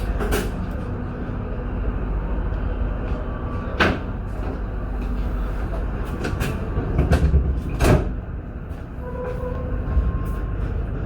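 A KA Pandalungan passenger train heard from inside the carriage, with a steady rumbling ride and sharp knocks and clunks from the rails and car fittings at irregular intervals.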